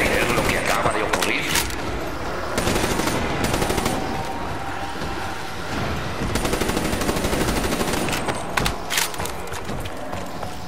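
Rapid bursts of automatic gunfire in Black Ops 3 zombies crackle almost nonstop, loud and close, with a few short pauses between volleys.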